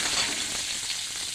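Onion frying in a pan, with tomato about to go in, gives a steady, dense sizzle with a soft crackle throughout, close and even, with no voices.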